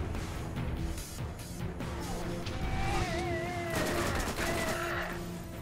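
Rapid gunfire from a special weapon in the game Borderlands 1, a dense continuous burst of shots running the whole time over ongoing game effects and whining tones, with no talking.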